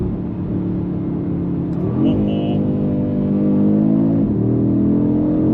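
An Audi RS3 Sportback's five-cylinder engine revs steadily, then its pitch jumps twice as gears drop, the loud droning motor close by with a brief spoken word over it.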